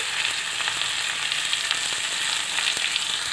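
Onions sauté in a pan for Bombay chutney, giving a steady, close, bright sizzle with faint crackles and no pauses.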